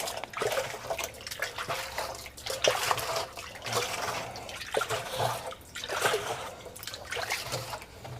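Water pours and splashes into a bucket for mixing floor leveling compound, a continuous rushing, gurgling flow with shifting intensity and no voices.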